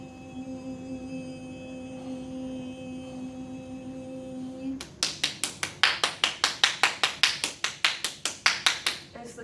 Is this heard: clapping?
yes